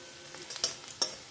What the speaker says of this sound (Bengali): এখানে দেখো আমি পেঁয়াজ ভাজা বসিয়ে দিয়েছি